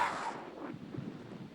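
Wind buffets a phone microphone beside the Pacific Ocean, a low, rough, continuous rumble that swells at the start and then holds steady and fairly quiet.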